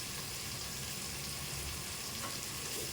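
Curry leaves and ginger-garlic paste fry in a pan for a prawn pulao, giving a steady close crackling sizzle with no break and no voices.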